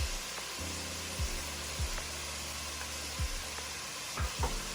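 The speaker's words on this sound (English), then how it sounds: "Going to add the garlic." Garlic sizzling in hot oil in a pot for vegetable soup, a steady continuous hiss broken by a few low knocks, close and alone without talk.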